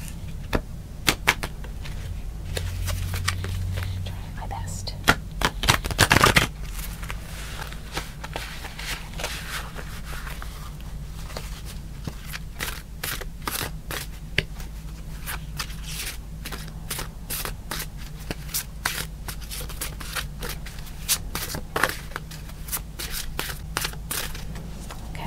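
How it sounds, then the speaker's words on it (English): A large deck of playing cards is shuffled in a quiet room during a blackjack game, with repeated crisp riffles and soft taps that continue steadily for a long stretch. One louder burst comes early, and there is no talking. "Shuffle because it's a large deck"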